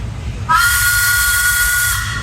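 A steam tractor whistle at an outdoor tractor parade sounds one loud, sustained, shrill blast with a hissing edge, starting abruptly after a brief quiet moment and holding steady to the end.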